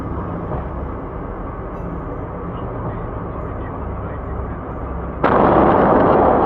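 A dashcam records a steady vehicle rumble until a sudden, loud, sustained blast from an apartment explosion in Namiki, Kawaguchi City, Japan, bursts in near the end.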